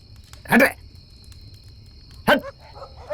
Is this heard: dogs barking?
yes